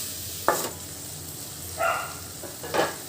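Tomatoes for a squid gravy sauté in a pan, giving a soft sizzle with a few short scraping stirs spaced through the moment, close and moderately quiet with no talking.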